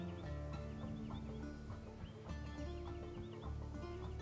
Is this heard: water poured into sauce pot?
no